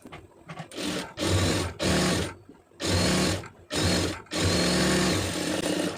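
A sewing machine stitching cloth runs in several loud bursts of steady whirring, each a second or so long, separated by brief stops, close up with no talking.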